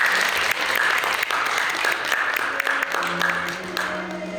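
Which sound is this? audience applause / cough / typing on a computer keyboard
audience applause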